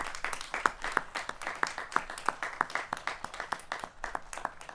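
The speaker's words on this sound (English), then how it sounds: "Let's all give them a great round of applause for the work they've done as well." A crowd at a New York State DEC announcement in Saranac Lake claps steadily, the many overlapping hand claps forming a dense, moderately loud round of applause that carries on without a break.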